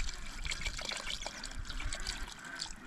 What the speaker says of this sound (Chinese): 把这个备好之后，直接倒水。